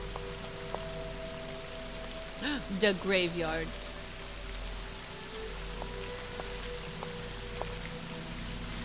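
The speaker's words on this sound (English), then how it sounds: "I know the sound of rain is so peaceful." Rain falls steadily in the Nancy Drew: Legend of the Crystal Skull video game, a constant patter on surfaces, with a brief spoken phrase over it partway through.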